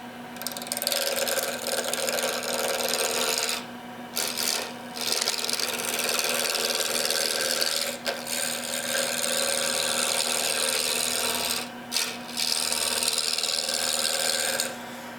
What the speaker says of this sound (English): we'll just turn our lathe on and we'll just start taking light passes